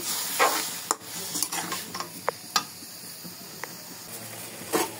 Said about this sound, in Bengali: শাকগুলো নেড়ে ছেড়ে ভালো করে সিদ্ধ করে নেব